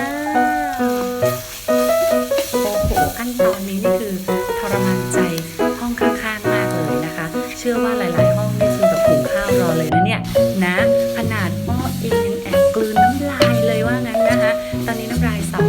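Pounded jackfruit mixture stir-fried in garlic oil in a wok, a steady sizzle with scraping and stirring clatter throughout, heard under continuous music and someone talking.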